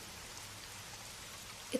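Rain starts to fall outdoors as a faint, steady patter of drops, quiet and continuous, with one small sharp tap right at the end.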